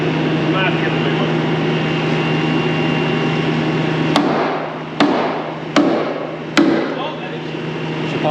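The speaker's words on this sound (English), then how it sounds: "his mini sledgehammer, little 4-pounder." Metal strikes of a 4-pound mini sledgehammer on a steel payloader cutting edge during welding repair: four sharp, loud blows in the second half, over a steady machine hum.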